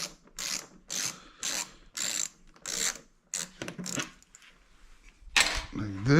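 A ratchet wrench clicks in quick bursts as front fairing bolts come out of a 2008–2012 Suzuki Hayabusa, with about eight short rhythmic runs of ratcheting up close, then a brief metallic clatter at the end.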